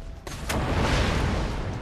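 A grenade goes off in the Borderlands 2 video game, a loud, dense burst followed by a sustained rumbling roar that fills the short moment, no voices over it.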